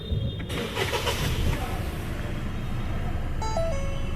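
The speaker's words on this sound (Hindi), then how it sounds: "तो इंजन को करता हूँ स्टार्ट।" A Ford EcoSport's engine cranks and starts after steering column repair work, a close, steady motor rumble with a brief whirring start and a short chime near the end.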